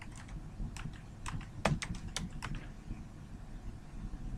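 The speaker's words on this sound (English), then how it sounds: "then type the username of the person you're sharing with" Someone types a username on a computer keyboard, a series of close, crisp keystrokes with an irregular rhythm and a few sharper taps, with no speech.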